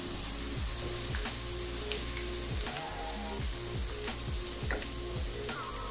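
Onions fry in a pan until golden, a steady broadband sizzle running throughout with a repeated mechanical rattle and clicking mixed in close by.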